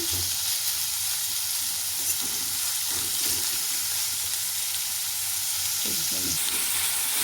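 Continuous bright sizzle of country chicken pieces frying and roasting in a pan on a gas stove for village-style biryani, a steady close hiss with faint scraping stirs and no talking.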